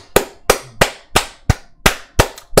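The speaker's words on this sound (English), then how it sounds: "Big ass hand clap." Loud, sharp hand claps repeat one at a time, eight of them in a slow, steady beat about every third of a second, close and dry with no talk between them.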